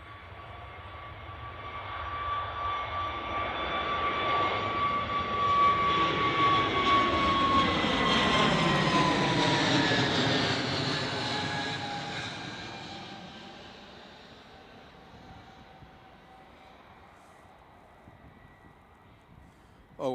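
A Boeing 757 passes over at Manchester Airport, its engine roar swelling to a loud, broad rushing peak with a sweeping whine, then slowly fading into the distance over about twenty seconds.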